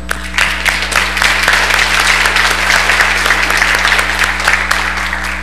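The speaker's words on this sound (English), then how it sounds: "Can we clap for them?" A church congregation bursts into sustained applause, many hands clapping together with crisp individual claps poking through a dense wash, loud and steady throughout, with a low constant hum running underneath.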